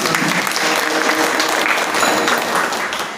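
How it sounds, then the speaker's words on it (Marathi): An audience at an Ashadhi Dahikala kirtan, a devotional gathering, claps in a loud, dense burst of many hands that holds steady and then eases off slightly at the end. "टाळी वाजवून द्या"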